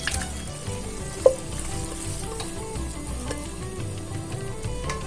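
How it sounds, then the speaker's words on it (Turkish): Onions and içli köfte filling fry in a pan with a steady, soft sizzle and occasional stirring scrapes, one brief louder clack near the start, no voices. "Soğanlarımın iyice kavrulu bölmesini bekliyorum."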